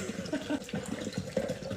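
Water runs from a tap or is poured to make a drink, a short, steady, fairly faint splashing stream with gurgling ripples and no talk over it.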